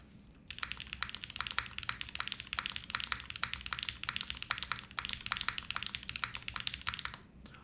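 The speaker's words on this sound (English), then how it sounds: "It's a nice, soft typing experience." Steady, fast typing on a QK Neo65 soft mechanical keyboard, soft muted key clacks in a continuous rhythm, close and fairly quiet.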